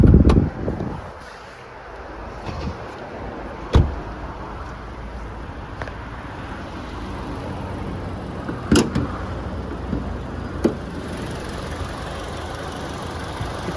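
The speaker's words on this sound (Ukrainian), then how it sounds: "Двигун працює рівно" A car engine idles steadily with a low, even rumble, broken by a few sharp clicks and knocks nearby.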